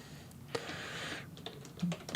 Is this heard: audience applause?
no